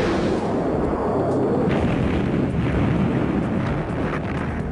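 An A-10 aircraft's gun fires in a loud, dense roaring burst, a continuous low buzzing rumble that fills the whole stretch without pause, with wind noise across the microphone.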